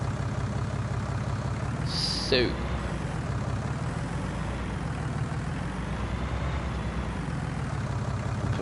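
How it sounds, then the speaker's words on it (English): A small tractor engine idles in Farming Simulator 19, a steady low rumble running through the whole stretch with a brief higher chirp near the start and a short spoken word over it. "I love this little tractor"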